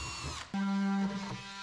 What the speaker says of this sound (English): So we're gonna poke some small holes on the back side with some small bits about in the corner